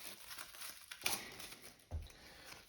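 Plastic wrapping on board-game card decks is cut and crinkled open with scissors, faint close rustling with two sharper snips or tears, no talking.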